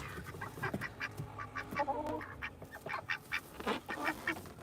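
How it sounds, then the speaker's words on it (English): Ducks quacking inside a warm chicken coop during a blizzard, a series of short nasal calls coming close and moderately loud, with scattered bird chatter around them. "The duckies"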